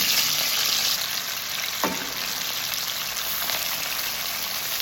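Cauliflower pieces hit hot ghee or oil in a pan over a high flame, giving a steady broadband sizzle and hiss with a brief clatter as they land, with no talking.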